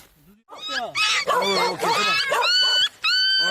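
Rescued puppies and their mother, a white dog caked in mud after being buried, whimper and whine in close, high, wavering cries that rise and fall almost continuously, with brief pauses between bursts.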